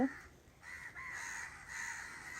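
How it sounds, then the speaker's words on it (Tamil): A flock of crows cawing in a leafy home courtyard in Sri Lanka, giving harsh repeated caws at a moderate distance over a soft outdoor background. "எங்கள் வீட்டு முற்றத்தில் காக்கா கூட்டம் இருந்துச்சு."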